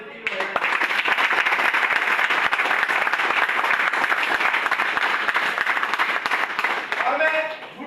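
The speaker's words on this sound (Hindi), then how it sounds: "स्पेशली मातृ शक्ति के लिए तालियां बजाओ जितनी भी है" An audience at a Modicare network marketing event bursts into loud, sustained applause for the women, dense clapping that carries on for several seconds before tapering off.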